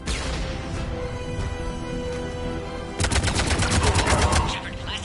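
Gunfire from Mass Effect 3 rattles continuously in the background, then erupts into a louder, denser burst of rapid automatic shots partway through.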